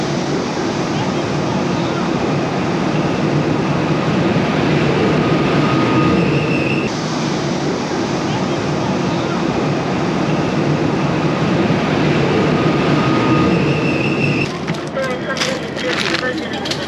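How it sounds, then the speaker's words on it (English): Steady broadband rumble of a train running on rails, heard from inside a carriage in Korea on the way to Daejeon, continuous and fairly loud for the whole stretch with a slight shift near the end. "Now I'm on the train"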